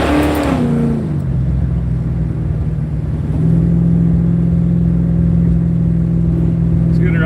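A Cuda with a fresh motor runs close by, a loud steady rumble that drops in pitch as revs fall early on, then settles into an even idle and rises slightly partway through.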